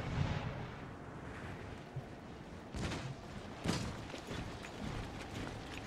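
Artillery firing in Empire Total War, a few dull booms scattered over a rumbling battlefield din, mid-distance and moderately loud.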